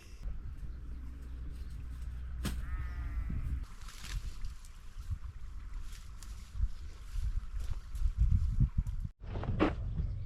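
Sheep bleating outdoors on a farm where a field is being fenced to be stock proof, a few wavering calls amid wind and steady outdoor noise, with a louder burst of rustling near the end.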